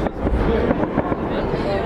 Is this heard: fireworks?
yes